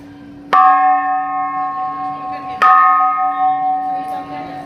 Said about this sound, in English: GM was becoming a pretty proficient bell ringer by now